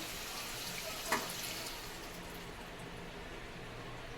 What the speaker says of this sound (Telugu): ఎందుకు వేస్ట్ చేయడం అని ఈ వాటర్ అయితే వేసేస్తున్నాను